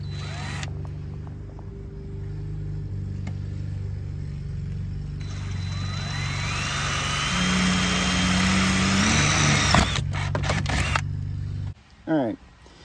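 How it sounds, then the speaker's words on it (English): A power drill bores a hole through the metal of a Pontiac Solstice for a seat belt guide, whining steadily up close while an engine hums in the background, ending with a few clicks and clatters. "So when we first started drilling,"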